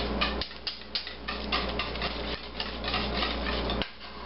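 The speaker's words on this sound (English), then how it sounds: "Let's just sprinkle some of that in there and give it a good stir." A spoon scrapes and clinks around a pot as grated extra sharp cheddar is stirred into cream of potato soup, a steady close-up scraping with light metallic taps and no voices.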